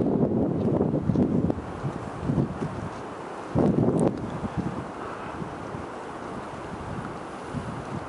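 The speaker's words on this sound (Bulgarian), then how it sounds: "Днес вятър е още по-бурен." Strong gusts of wind in a Patagonian mountain valley buffet the microphone in loud, uneven surges, with heavy blasts near the start and at about four seconds, then easing to a steadier rush.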